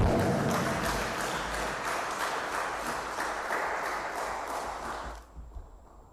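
Conference audience clapping to welcome a keynote speaker to the podium, a steady round of applause that holds evenly and then stops abruptly, leaving near silence with a faint tone.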